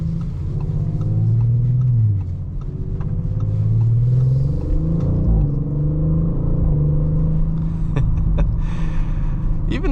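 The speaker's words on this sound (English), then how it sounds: "I really do like the exhaust note that this car puts out." A 2023 Audi RS 5 Sportback in dynamic mode drones with a loud, deep exhaust rumble from inside the cabin, engine note rising and falling through rev swells, with occasional clicks and pops late on.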